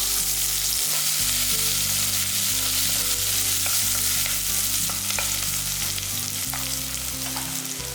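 Onion and curry leaves frying in hot oil for a lentil and bottle gourd kootu give a steady, loud, close sizzle that runs unbroken throughout, with a few faint stirring knocks and no voices.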